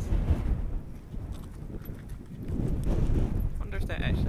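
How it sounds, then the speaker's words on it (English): Horses shift inside a horse box on a coastal path in Cornwall, their hooves knocking and clopping in an irregular patter under outdoor wind and nearby voices. "Oh, look. Horsey in the horse box. Some horses."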